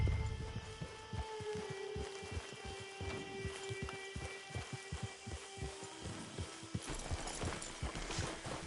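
Horse hooves clip-clop in Red Dead Redemption Online, a steady, evenly paced run of thuds over a faint background hum, moderately close with no talking.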